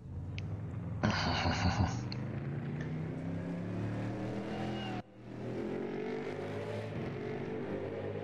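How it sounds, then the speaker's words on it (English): A race car engine in the RaceRoom racing game starts and revs, its tone climbing and falling steadily, loud and close, with a sharp cut midway before the engine drone resumes. "I heard the engine start."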